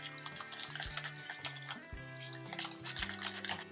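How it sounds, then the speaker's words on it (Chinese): A whisk mixes milk into softened cream cheese with lemon zest and sugar for a no-bake butterfly pea and blueberry cheesecake, making quick rhythmic scraping strokes against the bowl over soft background music. "加入牛奶，采用打蛋器混合均匀。"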